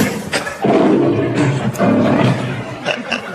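A loud, rough lion roar sound effect rumbles close by in two long swells, with a brief breathy pause between them, played during a British radio comedy game.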